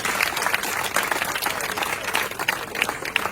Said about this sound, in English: Can we please applaud her?